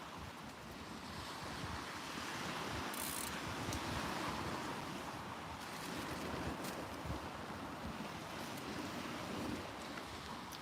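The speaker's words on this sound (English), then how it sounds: "That wind's definitely picked up." Strong wind blowing on a West Sussex shore during evening sea fishing, a constant loud roar of gusts and microphone buffeting mixed with surf, with no talk.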